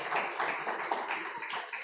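A church congregation applauds during a Sunday morning sermon, a brief, dense wash of many hands clapping together at moderate volume, heard at a distance.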